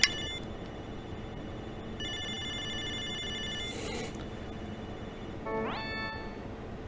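In the video game Snatcher, a video phone call rings with repeated electronic tones in short sets, then goes quiet, and a rising electronic chirp follows near the end.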